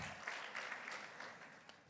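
Congregation at a Sunday worship service gives a round of applause, soft and distant, a brief wash of clapping that holds evenly and fades slightly.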